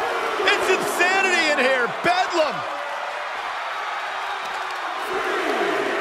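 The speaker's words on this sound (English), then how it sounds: "Look at this crowd. It's insanity in here, bedlam." A wrestling arena crowd roars and whoops in WWE 2K23, a dense, loud cheer with shrill yells swelling early and then settling into a steady din.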